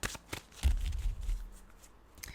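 A Mystical Wisdom oracle card deck is shuffled close by in a few quick riffling bursts, soft and fairly quiet, with no talking.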